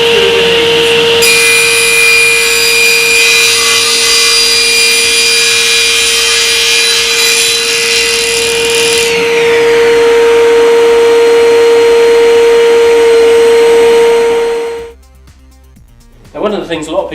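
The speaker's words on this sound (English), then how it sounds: "We can start the saw, switch on the extraction because we're using MDF" SIP cast iron 10-inch table saw crosscutting MDF with dust extraction running: a loud steady whine from the extractor and spinning blade, rising to a harsher cutting pitch for several seconds, then spinning down to quiet before a clatter.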